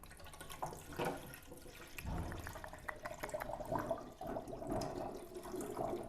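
Unfiltered water pours into a countertop water filter, a continuous, fairly quiet splashing and gurgling stream that shifts in tone partway through as the container fills.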